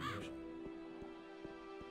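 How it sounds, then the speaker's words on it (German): A crow in the video game Gothic II caws in a short series of harsh, evenly spaced calls, faint and set against a quiet steady game ambience. "diese verdammte Krähe, die mir die Ohren explodieren lässt"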